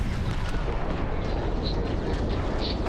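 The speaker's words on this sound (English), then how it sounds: "The turrets are... Oh, they're shooting behind." Rear-mounted ship turrets firing in Starfield, a dense, continuous barrage of booming bursts and rumbling blasts, loud and close, with no clear gaps.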